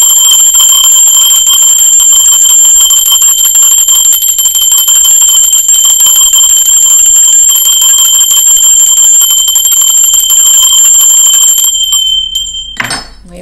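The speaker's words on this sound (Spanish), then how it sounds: "Va campana." A bell rung during a tarot reading, one loud bright strike that holds a long, steady shimmering ring and then cuts off sharply near the end.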